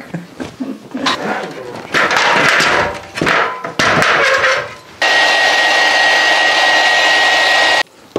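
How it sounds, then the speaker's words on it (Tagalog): A hair dryer runs to dry moisture inside a camera, a loud steady blowing roar with a high whine that starts after several seconds of knocks and handling noises, then cuts off. "Ginamitan ko ng air dryer kasi nagpumoint sa loob ng camera."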